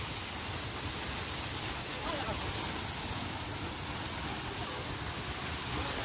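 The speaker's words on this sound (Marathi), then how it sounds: "पहिला धबधबा इथं. तिथून खाली पडतोय मस्तपैकी." A waterfall on the climb up Raigad fort, cascading down from above as a steady, dense rush of falling water that stays even and close throughout.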